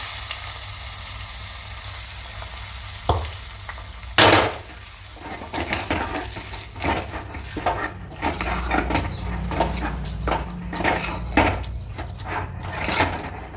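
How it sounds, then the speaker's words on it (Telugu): A spoon scrapes and stirs through thick lemon pickle in a pan, with soft sizzling and repeated knocks against the sides, close and continuous. "ఇలా బాగా కలుపుకుంటే నిమ్మకాయ పచ్చడి రెడీ."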